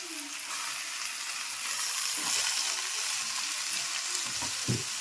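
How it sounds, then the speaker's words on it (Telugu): Washed spinach and chukka kura greens hit a hot pan over softened onions, releasing a steady broadband sizzle with brief crackling bursts and stirring scrapes near the end. "ఇప్పుడు మనం ఆల్రెడీ కడిగి పెట్టుకున్న ఆకుకూర వేస్తున్నాను అన్నమాట"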